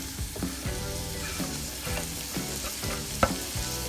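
Minced meat with peppers and carrots is sautéed for a pea dish, making a bright, close sizzle. Rhythmic scraping strokes of the stirring come every half second or so.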